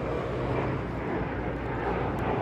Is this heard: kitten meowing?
no